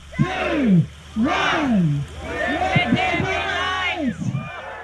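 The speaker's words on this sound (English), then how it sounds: "a crowd of nearly 200 people gathered in Oamaru's public gardens and shouted, "Let there be light!"" A crowd of nearly 200 people gathered in Oamaru's public gardens shouts a phrase together in loud, drawn-out unison bursts, followed by scattered cheers and whoops.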